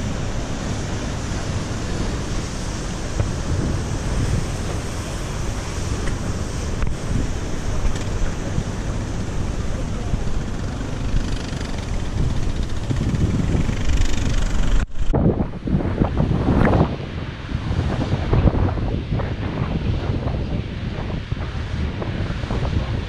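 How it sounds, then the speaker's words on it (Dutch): Rough sea off Aruba, with waves surging and strong wind buffeting the microphone in a steady loud roar throughout, then breaking into choppier, uneven surf bursts in the second half. "de ruwe zee"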